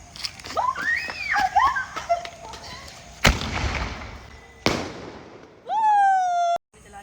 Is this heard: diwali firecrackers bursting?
yes